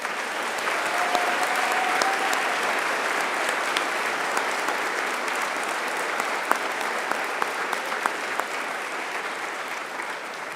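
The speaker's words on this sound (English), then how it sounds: "Please join me in a round of applause to thank all the men and women who have served our country." Sustained applause from a graduation ceremony audience honoring military graduates, a dense, steady wash of clapping from a large crowd lasting throughout, with no voices standing out.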